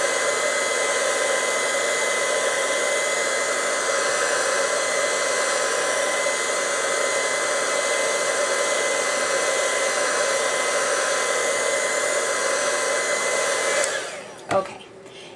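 A handheld heat tool blows a steady, loud whirring stream of hot air to set paint between coats, running evenly before it shuts off with a click and brief clatter.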